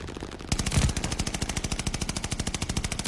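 A heavy machine gun in Call of Duty Vanguard fires a long, steady, rapid stream at a hardpoint, loud and close. The shots are evenly spaced and keep going almost the whole time after a brief quieter lead-in.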